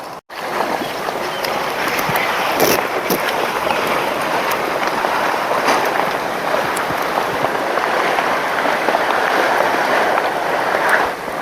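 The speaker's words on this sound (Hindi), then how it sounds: "देखेंगे कितनी तेज तेज यहाँ लहरें चलती हैं," Fast floodwater of the Mandakini river rushes past in a steady loud roar, close and continuous with a few splashes.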